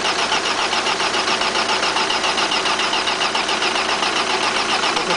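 A car engine cranks on its starter, a loud, continuous rapid churning with a fast repeating pulse held steady close by, without catching.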